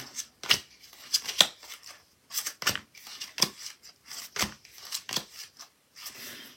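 Tarot cards being handled, flicked and set aside on a table: a quick series of crisp, close paper slaps and shuffles in an irregular rhythm, with no talking.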